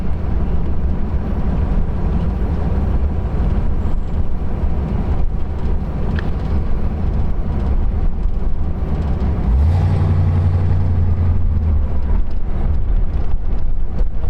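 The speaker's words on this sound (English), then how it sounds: "we're going to take it for a little spin here" A 1956 Ford Fairlane Sunliner convertible with a 292 four-barrel V8 and automatic transmission cruises slowly, its steady low engine rumble and road noise continuous throughout with wind buffeting and no talk.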